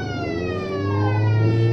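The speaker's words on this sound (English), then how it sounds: "And listen to that siren, isn't it cute?" A police car siren in the BeamNG.drive driving game, set in Italy, wails in a steady rising and falling electronic tone, loud and close, with no talking.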